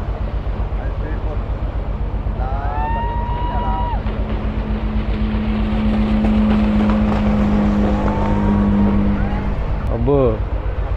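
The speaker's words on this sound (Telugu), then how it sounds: "ఇక్కడ స్పీడ్ బోట్ వస్తుంది." A speedboat passes a tour boat on the mangrove backwaters of Coringa Wildlife Sanctuary near Kakinada. Its steady engine drone swells and fades over the constant rumble of the boat's own motor and wind, with brief voices.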